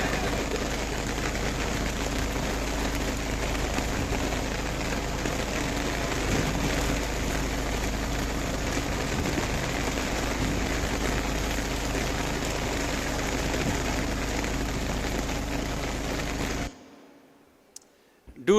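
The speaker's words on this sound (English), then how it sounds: "sometimes it rains and the weather changes" Rain falls steadily on the open deck of a sailing ship at sea on the voyage to Oman, a dense, even hiss of drops that holds loud for about seventeen seconds and then cuts off abruptly.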